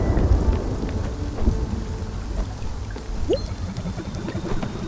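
Video game thunderstorm with a steady wash of pouring rain and low, distant thunder rumbling underneath, continuous and fairly soft with no talking.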